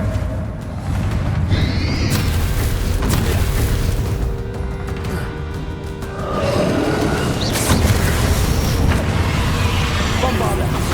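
Bombarda spell blasts thud and boom repeatedly in Hogwarts Legacy during a fight with the Ranrok dragon, set in a loud, continuous wash of battle noise with voices calling out throughout.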